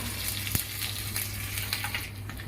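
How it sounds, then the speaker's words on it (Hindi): Tempering spices crackle and sizzle in hot oil for raita, steady frying noise with small pops, close up and without voices. "इसमें मैं तड़का लगा रही हूँ"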